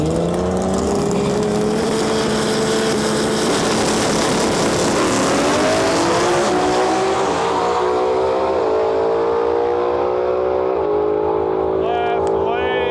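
A Chevrolet Camaro and a Nissan 240SX launch side by side at a drag racing World Cup Finals eliminations, engines roaring loud and rising in pitch through gear changes as they pull away, with an announcer talking over them.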